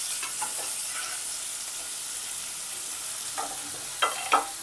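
Tomato slices, grated ginger and two green chillies frying in a pan for a Bengali lau ghonto, a steady broad sizzle with a few stirring scrapes near the end, no talk.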